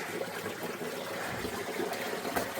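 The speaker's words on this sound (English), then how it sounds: "You can still hear the water running behind it" Water trickles and runs steadily behind a frozen waterfall hung with icicles on snowy bluffs, a continuous wash of flowing water heard close and alone, with no talking.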